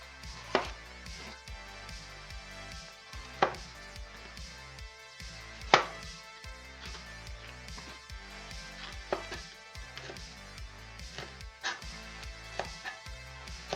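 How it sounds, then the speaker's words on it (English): Spring onion chopped on a board, a run of soft, regular knife taps close by, with a few sharper knocks standing out over a steady music-like background. "Now obviously you can chop this up as big or as fine as you want."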